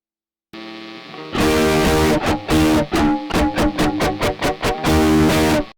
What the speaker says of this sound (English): So now let's hear distortion.